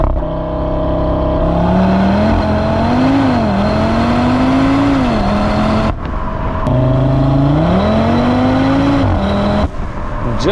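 A 2025 Audi RS3 Facelift engine revs loud and close, its throaty tone rising and falling through two long sweeps with a brief break near the six-second mark.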